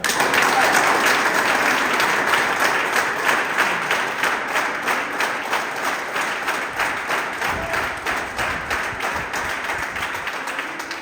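An audience at a direct selling business event applauds steadily and loudly, dense clapping filling the whole stretch with only faint murmurs beneath.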